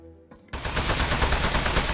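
After a brief quiet moment, rapid gunfire erupts against a metal enemy in Aperture Desk Job, a dense, loud stream of shots that keeps going to the end.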